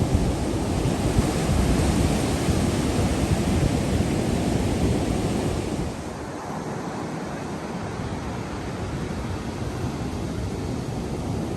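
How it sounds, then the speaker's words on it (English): Ocean surf at high tide beside a pier, a steady broadband wash of breaking waves with some wind, loud and continuous throughout, easing slightly partway through. "Currently high tide this morning."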